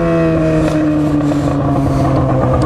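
Loud close roar of a Yamaha XJ6 motorcycle engine at high revs, a steady throaty drone with gradually shifting pitch, sustained throughout with some wind noise.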